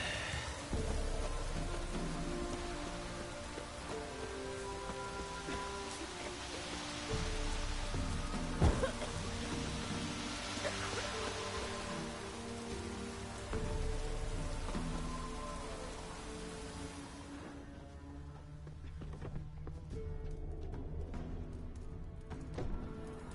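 A rain downpour in The Witcher 3: Wild Hunt gives a steady, dense hiss of falling rain with a faint low rumble underneath. It carries on unbroken and fairly quiet throughout, with no speech.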